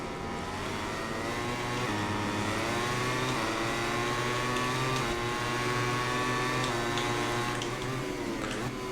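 A racing motorcycle engine from the MotoGP 21 video game drones steadily at high revs throughout a race, with a continuous tonal whine shifting slightly in pitch and no talking.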